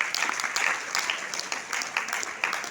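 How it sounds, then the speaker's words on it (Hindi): An audience claps steadily for a speaker walking onto a stage at a business event, a dense, continuous wash of hands that holds roughly even in loudness throughout. "उहाँको लागि एक जोरदार ताली।"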